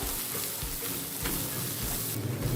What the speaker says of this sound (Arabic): هنزل كده بيهم، نحاول افتفت بس المكعب الخضار، هقلبهم كده مع بعض